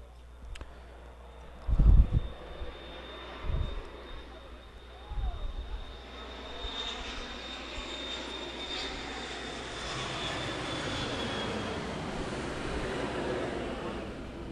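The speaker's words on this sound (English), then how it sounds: "Big Air Canada flight coming into Regina Airport." A large Air Canada airliner flies low overhead on approach to Regina Airport, a steady distant jet roar that builds and holds, with a thin high whine and a few thumps near the start.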